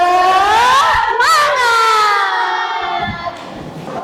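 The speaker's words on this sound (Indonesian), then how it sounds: "Tepuk semangat." Classroom of students chanting the "tepuk semangat" spirit clap in unison, loud close voices in sustained sing-song tones with a burst of clapping in the middle, tailing off into quieter murmurs.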